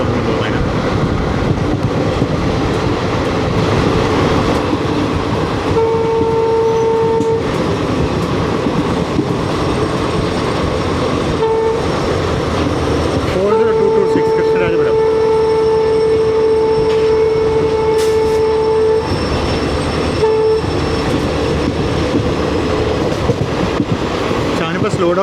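The Vijayapura–Yesvantpur Express, a short train of about fifteen coaches, rolls past with continuous rail rumble and clatter, overlaid by drawn-out horn-like tones in the middle, while a person talks throughout.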